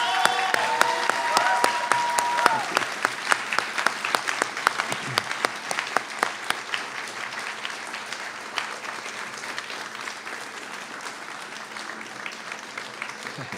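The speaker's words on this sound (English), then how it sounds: "Students, will you join me in giving him a round of applause?" A graduation audience at a respiratory therapy commencement claps for a professor, a full, loud round of applause with distinct individual claps that slowly thins and softens, and a brief tone and voice early on.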